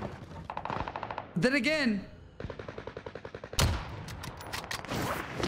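Bursts of P90 submachine gun fire in Call of Duty Vanguard Warzone on Rebirth Island ring out as rapid rattling volleys. Shorter pauses separate them, and a voice speaks briefly over the shooting.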